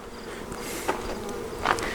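Bees buzz around a honey super fitted with a bee escape board, a soft droning hum with brief louder swells as individual bees fly past the microphone.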